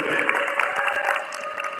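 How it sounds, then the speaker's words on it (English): Audience applause for a group of young men at a chess and community conference, a steady dense clatter of many hands filling the room, with some cheering and voices mixed in. "Please give a round of applause for these young men."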